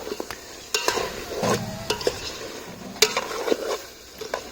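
Chicken curry pieces fry in oil with chilli powder while a spoon stirs them, giving a close sizzle broken by scraping and clinking strokes against the pan.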